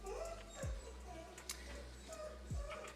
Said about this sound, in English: it's my dog making noises.